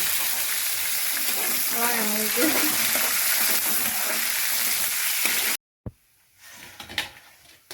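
Onions crackle and sizzle in hot tempering oil for a mushroom curry, a steady loud fry broken by spatula stirring and brief voices, then a sudden cut to near silence with a few sharp knocks and scrapes.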